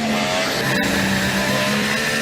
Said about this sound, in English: this is the sound you're hearing on board with the British racer who makes his way through the right-hand kink of 5